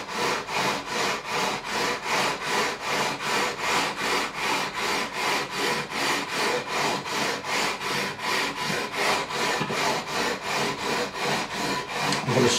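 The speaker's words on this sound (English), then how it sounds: "So my trusty Crimson Guitars leveling beam, 400 grit on this edge, 240 grit there. We're going to remove the material with 240 grit." A 240 grit leveling beam is rubbed up and down along the frets of an Ibanez RG200 guitar neck, a steady rasping back-and-forth sanding with about two strokes per second, close and continuous throughout with no talking.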